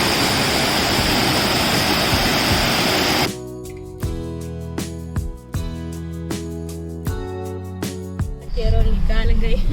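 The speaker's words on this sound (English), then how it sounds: "And see the waterfall." Waterfall in a Kerala forest, a loud steady roaring rush of water for the first few seconds, then cut off abruptly as rhythmic music with sharp beats takes over.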